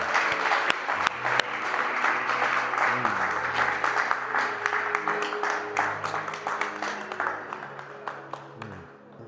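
Congregation at a Sunday church service applauding the Lord together, steady clapping throughout with voices and some music beneath, tapering toward the end.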